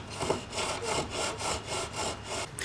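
Wood is being marked out for a mortise with a scribe, giving about six close, even rasping strokes in a steady back-and-forth rhythm.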